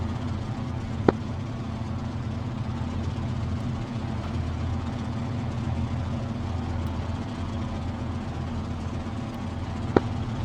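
A WWII F4U-1D Corsair's piston radial engine rumbles steadily at low idle while the plane taxis to the runway in the DCS flight simulator, a continuous even drone with two brief sharp clicks and no voices.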